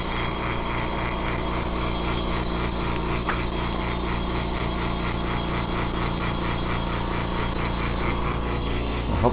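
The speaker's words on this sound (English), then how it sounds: "So let's fire up the compressor." An air compressor runs continuously and loudly close by, a steady mechanical drone with rapid pulsing chug, set up to blow out a clogged dental unit central suction line.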